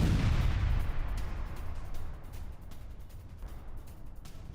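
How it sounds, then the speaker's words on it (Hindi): A Russian Iskander missile strike on an S-300 air defence system: a single loud, deep blast at the start rolls off into a long, fading rumble with scattered distant crackle, and no voices are heard. "स्कैंडर मिसाइल से रशिया ने कल बहुत बड़े हमले किए"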